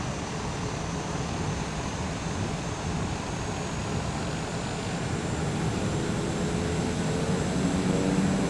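A small, fast propeller plane in a flight simulator game hums as a steady, even engine drone with a broadband airy wash, holding constant throughout with no talking.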